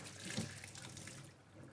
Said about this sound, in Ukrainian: І одразу зливаю воду і заливаю холодною водою.